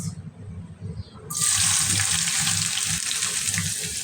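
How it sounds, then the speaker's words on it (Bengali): After a brief low rumble, a loud sudden sizzle bursts out as diced onions hit hot oil, then keeps hissing steadily up close. "পেঁয়াজটা দিয়ে দিচ্ছি একটু ভেজে নেবো"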